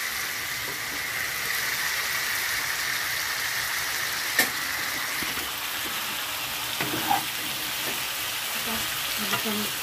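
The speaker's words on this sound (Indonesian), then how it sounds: "Kira-kira diaduk sampai selama kering" Tofu and eggplant fry with tauco (fermented soybean paste) in a pan, a steady sizzling hiss running throughout with occasional soft clinks of stirring.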